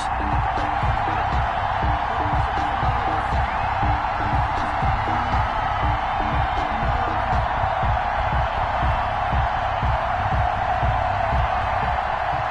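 Stadium crowd roaring in a PS4 American football video game as the Baltimore Ravens and Pittsburgh Steelers take the field in Baltimore: a steady, loud, dense wash of cheering with rhythmic low thumps running underneath throughout.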